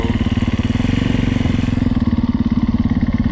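A 2015 Husqvarna FC350 dirt bike engine with auto clutch idles steadily up close, a loud, even low-pitched putter with fast regular firing pulses and no revving.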